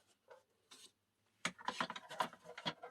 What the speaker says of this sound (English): get your bone folder, and if you burnish it, it makes it easier for that tape to come off